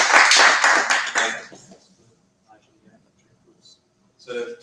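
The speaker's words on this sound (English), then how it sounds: "think we can give another big rounds of applause for our both teams" A brief burst of audience clapping for both teams at a climate-crisis information event, loud at first and fading out within two seconds, followed by quiet with a few faint taps and a short later noise.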